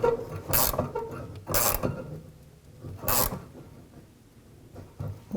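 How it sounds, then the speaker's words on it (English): A wrench tightening the bolt on a gas tank strap under a Jeep Cherokee, with three or four short ratcheting bursts spaced about a second apart, close and moderately loud. "you'll hear it put strain on the bolt"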